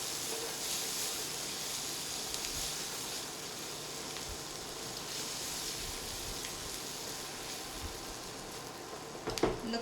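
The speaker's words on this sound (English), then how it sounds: "Once the mushroom starts to brown, we are just going to add the sliced asparagus to the pan." Sliced asparagus sizzling in a pan with browning mushrooms, a steady close hiss of frying throughout, joined by a few clinks of utensils against the pan near the end.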